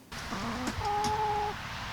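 Backyard chickens in a garden give a short clucking call followed by a longer drawn-out note, close and moderately loud against quiet outdoor background.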